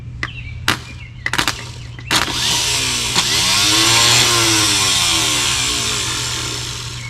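A 1964 Ford Falcon Sprint engine cranks on its starter without catching: a few sharp clicks, then a loud, sustained whirring spin lasting several seconds, with no voices.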